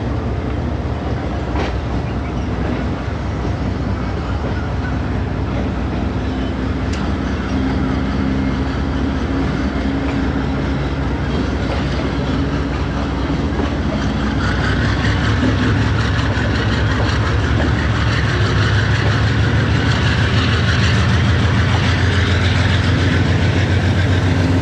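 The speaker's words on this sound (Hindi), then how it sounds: "आप देख रहे हैं कि बिल्कुल स्मूथ एंड स्लो डिपार्चर हो रहा है मुल्तान से 15 अप कराची एक्सप्रेस का" The 15 Up Karachi Express pulls slowly and smoothly out of Multan station, a loud continuous rumble of locomotive engine and rolling wagons with clanks and squeals, building gradually over nearly half a minute with no voices.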